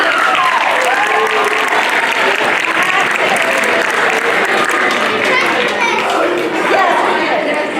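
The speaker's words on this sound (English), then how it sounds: "Give our parents a round of applause." Sustained, dense applause from a school audience thanking parents at a fifth-grade class event, steady and loud throughout with faint children's voices mixed in the crowd.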